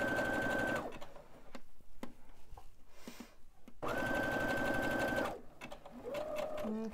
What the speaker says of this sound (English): And then continue sewing down that side.